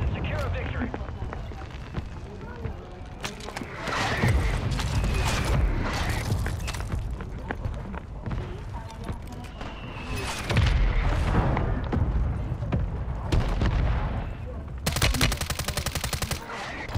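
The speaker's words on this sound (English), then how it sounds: "Mortar on us." Mortar and artillery fire in a Call of Duty match mixes with bursts of gunfire and heavy explosions, loud and continuous with several booming peaks, while players talk over it.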